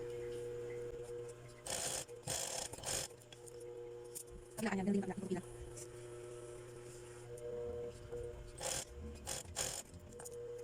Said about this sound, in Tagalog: Sunod naman natin gawin ay tahiin natin ito.